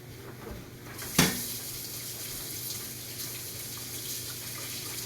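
Hands washed under a running kitchen tap, a steady close hiss of water with a brief clatter near the start.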